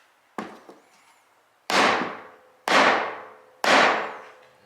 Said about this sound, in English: Chisel and his mallet. I'll try the mallet first, see if it'll pop it